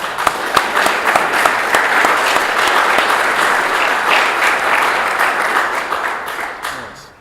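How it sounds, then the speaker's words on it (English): An audience at a 2018 BNRC Gathering of Men gives a loud, dense round of applause that holds steady for several seconds and then fades out. "This deserves a round of applause."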